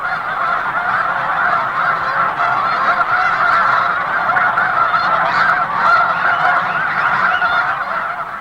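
A large flock of Canada, blue and snow geese gathered on a river for a roundup honks continuously, many overlapping calls forming a loud, dense chorus.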